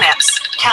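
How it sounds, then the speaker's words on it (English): A mobile phone ringtone goes off during a city commission meeting, a short bright electronic melody of rising and falling tones over less than a second, close and fairly loud. "And I apologize for my phone going off there."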